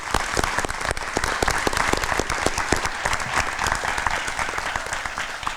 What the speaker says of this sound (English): If we can give her a big round of applause.